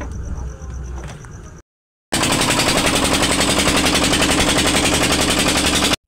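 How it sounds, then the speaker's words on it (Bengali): A fishing boat engine is started: some quiet handling noise and a short pause come first, then the motor catches and runs in a loud, rapid, steady knocking chug right up close. "এখন আমি মেশিন স্টার্ট দিচ্ছি"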